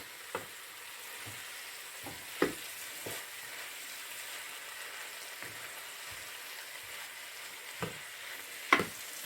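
Vegetables and meat coated in flour are stirred in a pan, with a soft continuous sizzle under repeated scraping strokes and spatula knocks at an uneven rhythm, some sharper clacks near the end.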